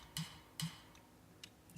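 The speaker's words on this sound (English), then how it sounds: "And I also took some drumstick sounds to add some variation to the fill" Quiet, dry drumstick clicks, two sharper taps followed by a few fainter ticks in a loose rhythm, thin and close with little body.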